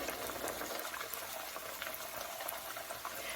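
A puffy taco shell slid into about three-quarters of an inch of hot oil in a pan, bubbling and sizzling in a dense, continuous boil of even loudness, with no talking.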